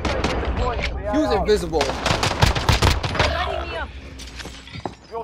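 Rapid gunfire in the shooter game Warzone, a dense burst of shots in the middle with a few sparse cracks after, while a player talks over it.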